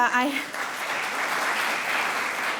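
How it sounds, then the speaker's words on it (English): Audience applause at a summer school session for high school students, a steady broadband patter of many hands filling the room for nearly three seconds after a brief voice at the start. "Thank you for that round of applause."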